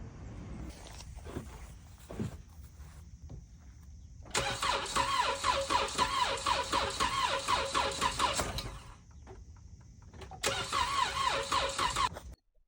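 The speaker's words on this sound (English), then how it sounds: "if you hear me just try to crank the engine up" A car engine cranking without starting, heard in two long attempts: the starter whirs rhythmically for several seconds, stops, then cranks again, close and fairly loud, with quieter clicks and knocks between.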